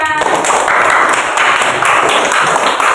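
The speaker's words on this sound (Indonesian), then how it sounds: "Tepuk tangan buat Sila." A classroom of children applauds a student who has just answered, loud dense clapping filling the whole stretch close by, with no talking over it.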